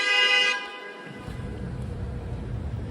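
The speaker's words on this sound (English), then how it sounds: "now we got the horn honkers out tonight in force" A car horn sounds loud and sustained in the first half second on a New York City street at night, then cuts off and gives way to a steady low rumble of traffic and street noise.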